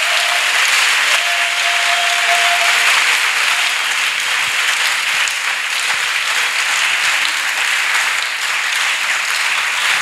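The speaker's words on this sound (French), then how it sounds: "Let us clap for Jesus." A congregation claps together at a church intercession service, dense sustained applause filling the room steadily from start to finish, loud and close with no talking.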